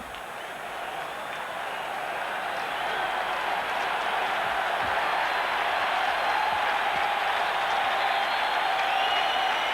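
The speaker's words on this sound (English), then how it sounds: "Crowd on its feet." A stadium crowd at Super Bowl XX roars in a dense, continuous wall of cheering that swells slightly over ten seconds, loud and distant-sounding with no clear voices above it.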